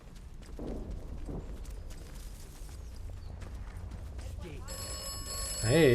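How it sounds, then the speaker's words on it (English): A telephone rings in the video game Atomfall, a bright electronic trill breaking in near the end over a low ambient hum, with muffled movement and game sounds earlier. "Hey, the telephone's ringing."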